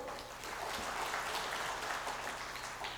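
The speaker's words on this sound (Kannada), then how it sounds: "ಚಪ್ಪಾಳೆ ಹೊಡಿಬೋದು." An audience at a state-level Kannada conference of human resources professionals breaks into brisk applause, a dense patter of many hands that holds steady for several seconds and is fairly distant.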